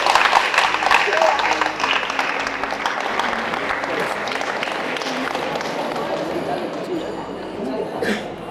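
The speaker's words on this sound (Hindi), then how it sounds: "एक बार तालियां बजनी चाहिए भाई।" Audience clapping at a college rangoli competition, a burst of applause that gradually thins out, with crowd chatter and voices mixed in throughout.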